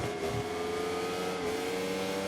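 Racing motorcycle engine in the MotoGP 24 video game at Assen, a steady loud mid-pitched drone that holds throughout with no talk over it.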